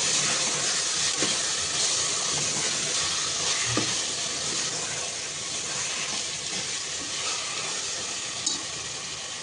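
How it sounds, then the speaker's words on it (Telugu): Gongura chicken curry cooking covered in a pressure cooker, a soft continuous hiss and gentle sizzle with a faint steady bubbling, close and even, with a couple of small clinks. "చూడండి, ఇలా చక్కగా మగ్గుతుంది మనకు"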